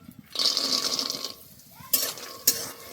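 Peanuts fry in a pan with a steady, bright sizzle that fades midway, followed by a couple of sharp clinks and scrapes of stirring, close up and with no talking.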